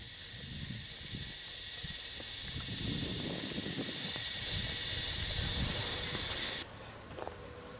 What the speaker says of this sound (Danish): Og man kan virkelig høre de der cikader, der bare larmer.